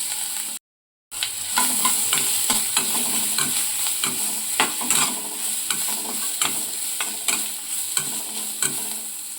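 A ground masala paste with mustard seeds and chilies stirred in hot oil for a Tamil sundal, with steady sizzling and frying and repeated scraping strokes of a spoon in the pan, close and continuous, with a brief gap near the start.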